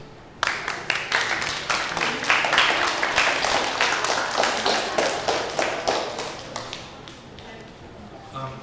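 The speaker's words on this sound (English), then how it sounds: "let's give her a round of applause" An audience at a summer retreat panel gives a round of applause, many steady hand claps in a dense rhythmic stream that fades out gradually, with a voice heard faintly underneath.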